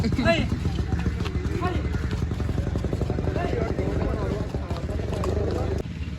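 Hooves of a ridden horse clip-clop in a steady, rapid rhythm throughout, near and fairly loud, with people talking over them.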